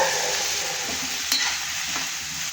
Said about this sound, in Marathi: आता हे सगळं आपल्याला एकत्र परतून घ्यायचं